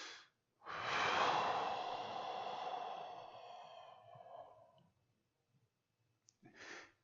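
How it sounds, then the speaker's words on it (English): A single deep, drawn-out breath in a calming breathing exercise, a long airy exhalation fading away, followed by silence and a short breath at the end. "Now I'm going to take a deep breath and I'm going to exhale."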